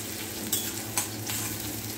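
Onions sauté lightly in a pan, giving a faint, even sizzle with a couple of soft clicks from stirring.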